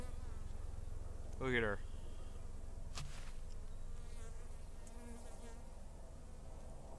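Honey bees buzz steadily in the background while a person speaks briefly close by, during installation of a bee package.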